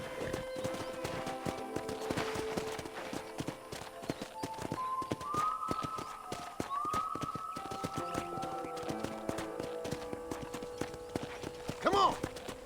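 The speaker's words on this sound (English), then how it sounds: "let's see if you can still ride a horse." Galloping horse hooves drum in a fast, steady rhythm while riding in Red Dead Redemption, with a whinny near the end, set against game music and ambience.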